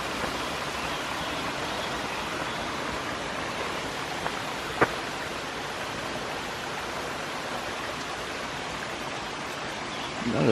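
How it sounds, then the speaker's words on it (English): A small waterfall along the Appalachian Trail, a continuous broadband rush of falling water heard close and steady throughout, with a brief click partway through. "Very nice little waterfall up there."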